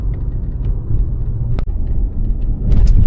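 A taxi drives through the city of Dnipro on a foggy day, giving a steady low engine and road rumble from inside the car with a brief click partway through.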